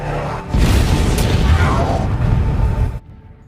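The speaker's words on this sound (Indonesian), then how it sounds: "semua orang dikagetkan dengan ledakan pesawat itu." An airplane explodes in the 2021 film Blood Red Sky, a sudden heavy roaring blast that swells from a quieter start and rumbles loudly for about two and a half seconds before cutting off abruptly.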